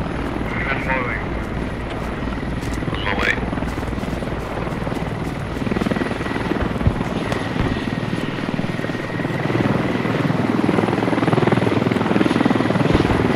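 A helicopter in the military shooter game Squad gives a loud, steady rotor and engine drone throughout, with brief chirps and voices over it.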